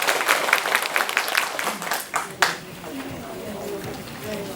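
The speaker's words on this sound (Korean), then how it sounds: "한 박수 부탁드리겠습니다" Audience applause at a residents' general assembly in Dongi-myeon, Okcheon County, breaking out as scattered clapping that fades after a couple of seconds, with voices and crowd murmur continuing underneath.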